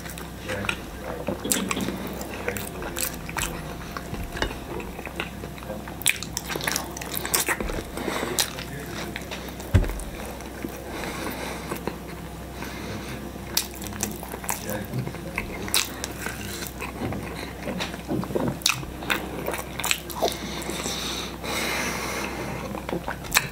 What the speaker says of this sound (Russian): Как медведь рыбу хавать.